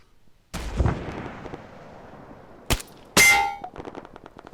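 A Mk11 Mod 0 marksman rifle fires in ARMA 3, giving a sharp loud crack that decays slowly into the distance. A metallic clang and another close report follow moments later.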